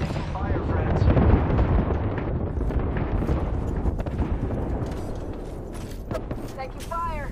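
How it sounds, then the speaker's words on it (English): Airstrike explosions pound near the player in Apex Legends, a dense, continuous rumble of low booms and blasts lasting several seconds, with a voice talking over the barrage. "Heads down. Airstrike danger close."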